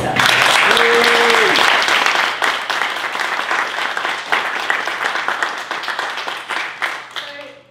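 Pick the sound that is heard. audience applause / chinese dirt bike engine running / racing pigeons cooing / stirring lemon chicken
audience applause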